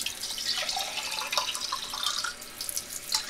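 Water is poured into a cooking pot to boil buckwheat for a dish of baked chicken legs, a steady close splashing and trickling stream with no talking.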